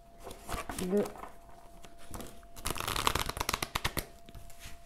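Oracle cards being shuffled in the hands, a series of soft riffling, flicking bursts over a few seconds, with a voice speaking alongside.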